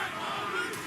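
A crowd cheering wildly in a Big Y grocery advertisement, a brief burst of dense roaring voices heard alone.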